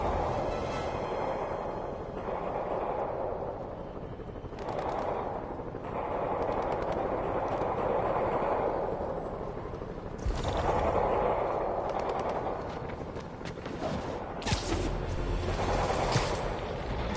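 Sustained machine gun fire in Spider-Man Remastered during a street battle, loud continuous bursts of automatic gunfire with a few louder cracks near the end, no talk.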